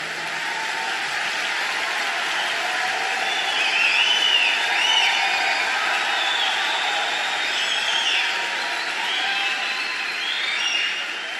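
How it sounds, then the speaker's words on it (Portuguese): A large church congregation claps and cheers steadily for several seconds, a dense, sustained wash of applause with swells of shouting. "Pode aplaudir bem forte."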